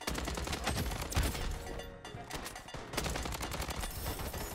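Sustained gunfire in the shooter game Bloodstrike, with rapid repeated shots crackling continuously for several seconds, dense and fairly quiet overall, with a short lull midway before the firing resumes.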